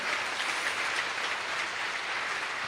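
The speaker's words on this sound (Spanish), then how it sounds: "Dale un aplauso más fuerte a nuestro Redentor Jesucristo" A church congregation claps in praise during a worship service, a continuous even roar of many hands that holds steady and fairly loud throughout without voices.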